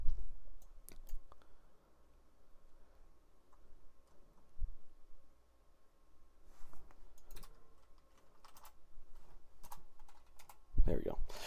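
Computer keyboard typing with scattered clicks and bursts of keystrokes, fairly faint and close, with a low background hum and a louder clack near the end, recorded during a severe weather broadcast.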